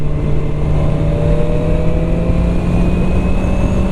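A QJ Motor SRK 921 RR motorcycle engine drones loud and steady while riding, its pitch climbing slowly as the revs build, with constant wind and road rumble beneath.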